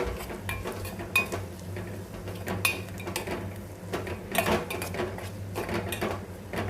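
A spoon scrapes and stirs through an onion powder and turmeric mixture in a pan, with soft intermittent clinks and scrapes over a low steady hum, fairly quiet and close.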